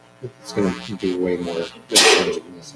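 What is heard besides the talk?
sneeze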